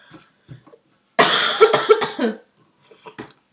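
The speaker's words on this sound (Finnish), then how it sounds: "kun on vitun yskä" A single burst of harsh, close coughing from a player during a Finnish Minecraft session, loud and isolated, with faint murmurs before and after.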